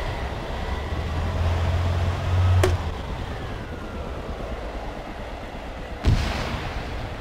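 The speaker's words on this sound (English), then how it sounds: "I shot grenades at them." Grenades fired in The Thing video game: two sharp, separated blasts, one near the start and one toward the end, over a rumbling low background of game noise.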